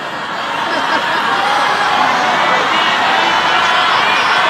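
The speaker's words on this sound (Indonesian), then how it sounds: "Kalau semua teriak kayak gini saya nggak dengar." A crowd at a presidential speech on Indonesia's National Teachers' Day 2025 shouts in a dense, loud, sustained roar that swells slightly and continues without a break.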